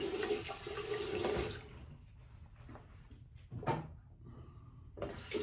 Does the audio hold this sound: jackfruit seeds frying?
no